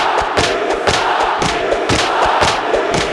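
Wrestling crowd in Broadfield, Detroit, Michigan roaring during a match, a loud continuous wall of shouting voices punctuated by rhythmic thumps and claps.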